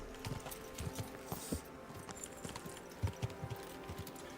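Horse hooves clip-clop in the video game Kingdom Come: Deliverance II, a faint, steady trotting rhythm of soft thuds over quiet ambience.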